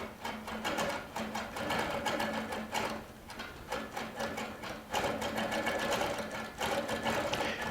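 Baby Lock Regent sewing machine doing ruler work, stitching in a steady rapid buzz with short pauses and restarts, close and fairly loud with no talk over it.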